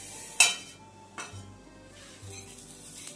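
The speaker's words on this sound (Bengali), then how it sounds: "তা আমি এখন তাওয়ার মধ্যে দিয়ে দিচ্ছি শুকনো লঙ্কা আর হচ্ছে দিয়ে দিচ্ছি হচ্ছে তেজপাতা" Dry red chillies and bay leaves, still damp from washing, hit a hot tawa with a couple of sharp clinks and a brief crackle, followed by a low, quiet hiss.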